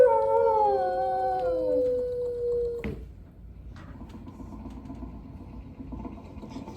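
Rover, the animatronic dog in the Carousel of Progress show, lets out a loud, wavering howl that slides downward in pitch for about three seconds. A low background hum follows, and a voice speaks briefly.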